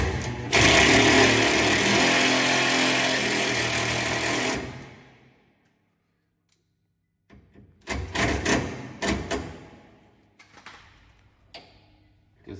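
Power drill whirs loudly and steadily while mounting a reverse camera on a Toyota Hilux tray, then stops abruptly, followed by quieter scattered clicks and handling knocks.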